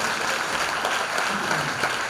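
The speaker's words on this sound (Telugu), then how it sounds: "ఒక్కసారి చేతులుండి గట్టి చప్పట్లు" Congregation at a Christmas worship service clapping hands loudly and steadily, a dense continuous wash of applause filling the hall throughout.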